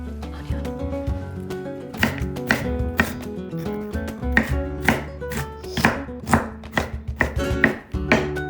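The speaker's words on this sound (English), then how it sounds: "we're going to peel and dice 4 medium carrots into bite-sized pieces" A knife chops carrots into bite-sized pieces on a board, producing rapid, close, crisp thuds in an irregular rhythm over a low steady background hum.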